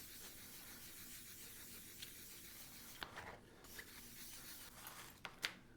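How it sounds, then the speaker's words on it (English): Quiet, steady rubbing of a fine-grit polishing pad over wood, a soft continuous scuffing with a few light taps and clicks toward the end. "it just kind of glides on there. Give a nice buff."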